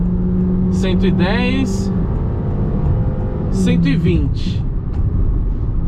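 A Honda City Touring with an aspirated 1.5 engine revs hard at full throttle, a steady loud engine drone running under someone talking throughout.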